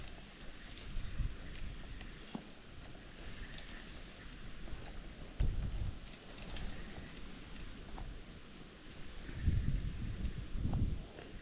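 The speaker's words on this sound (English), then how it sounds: "Got some wind in our face too" Wind blows steadily while fishing from a boat on a hot day, a low rumbling buffeting on the microphone with gusts swelling louder now and then, and no talk over it.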